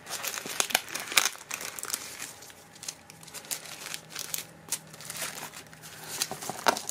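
Foil nail supply packages being torn and ripped open one after another, a dense run of close crinkling, crumpling and tearing bursts with no talking.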